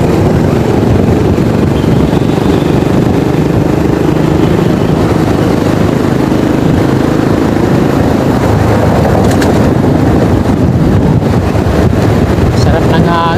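Steady, loud wind roaring and buffeting the microphone throughout, a broad rushing noise with low rumble and no clear breaks.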